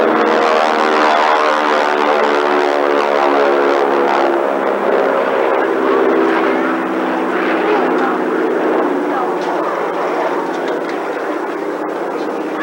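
A propeller airplane flies aerobatic maneuvers at an air show, trading altitude for airspeed, its engine a loud, sustained drone whose pitch slowly shifts as the aircraft turns and passes, with no other sound heard.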